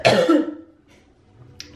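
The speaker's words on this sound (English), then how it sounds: "Sorry, still got a cold and I'm at that consistent coughing stage." A single throaty cough from a person with a cold, with some throat clearing, close and fairly loud, followed by quiet room noise and a faint click.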